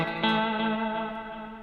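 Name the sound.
guitar played through the Savage effects patch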